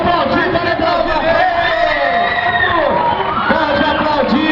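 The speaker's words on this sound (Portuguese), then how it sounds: "Pode aplaudir, aplaudir de verdade." Audience at a school festival cheering and shouting loudly, a dense, steady crowd roar with children's whoops and voices throughout.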